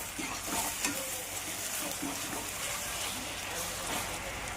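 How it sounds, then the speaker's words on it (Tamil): Tomatoes fry in a pan for egg masala, giving a steady close sizzle with occasional stirring scrapes and no talking. "தக்காளி போட்டு நல்லா வேக வைக்கணும்."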